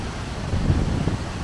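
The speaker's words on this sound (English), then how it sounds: "But very powerful once again, this waterfall." A powerful Icelandic waterfall roars as a steady, dense rumble of crashing water, loud and close with continuous spray and wind buffeting, no voices over it.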